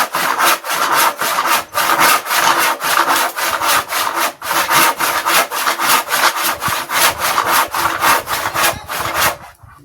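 Wood being cut with a hand saw, rapid rhythmic rasping strokes back and forth, loud and close, keeping a steady pace for about ten seconds with only brief pauses.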